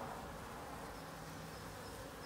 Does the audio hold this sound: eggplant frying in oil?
no